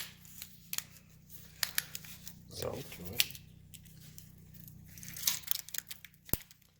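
Scissors snip a piece of Velcro during restoration work on a 1971 Triumph Tiger 650cc motorcycle, giving a few quiet, brief cuts and rustles close by. Someone speaks briefly in between.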